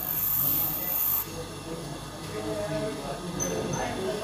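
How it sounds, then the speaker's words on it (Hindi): A twist drill bit is ground against a fine silicon carbide grinding wheel, giving a steady rasping, hissing grind with a high whine that fades early, while someone talks over it. "ये जो हमारा ग्राइंडिंग व्हील है ये हमारा फाइन ग्राइंडिंग व्हील है, सिलिकॉन कार्बाइड का बना होता है हमारा ये।"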